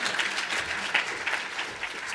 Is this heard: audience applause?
yes